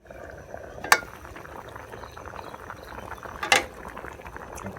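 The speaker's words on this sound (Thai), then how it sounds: "เดือดปุดปูเลยครับ" Steady low bubbling and simmering of beef offal soup in a pot, with two brief sharp clinks standing out over the continuous boil.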